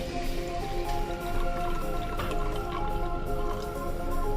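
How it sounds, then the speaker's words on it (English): Lemonade pours into a glass until it is half full, a steady liquid splash and trickle with faint drips, close up, under a constant background bed of music. "First I'll be putting the lemonade, which has to be half of the glass."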